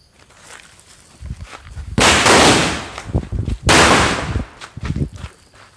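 Small firecrackers bursting at a Diwali celebration, two loud, sharp broadband blasts a couple of seconds apart with crackling debris and rustling between, no talk.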